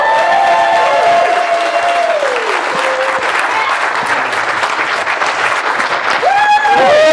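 Loud, dense applause fills a workshop hall as a national consultant is welcomed to the stage, with some cheering and upward whoops rising over the sustained clapping.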